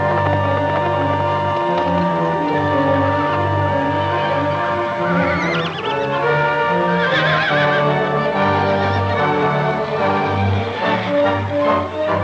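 Horses whinnying and snorting amid hoofbeats near a canyon rim in an old Western film, with a dramatic orchestral score playing loudly throughout and the neighs rising through the music.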